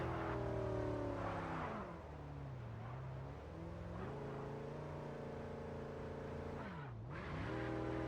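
Car engine in the game Mindseye revving hard while speeding uphill, loud and close, with pitch climbing and dropping through gear shifts and a sharp dip and rise near the end, no talk.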